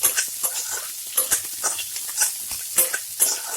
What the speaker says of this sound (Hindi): इसे तेज आंच पर हम 3 मिनट तक लगातार चलाते रहेंगे